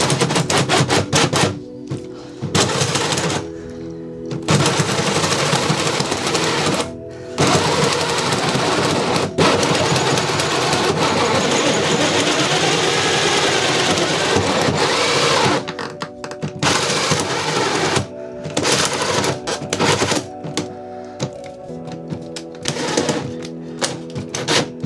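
Power tool cutting a waste-pipe hole during a small boat bathroom renovation, a loud continuous whirring drone in long bursts broken by short pauses, running close and steady for most of the stretch.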